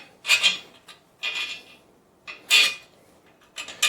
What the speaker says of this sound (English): I'm just going to screw it in a little bit. Not in, just enough to get the threads going in all four